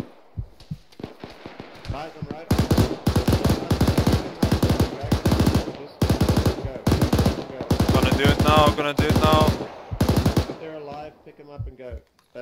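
Bursts of automatic gunfire in the Arma 3 military shooting game, with rapid volleys of loud shots that come in long clusters and short pauses, building to sustained fire before fading into scattered single shots.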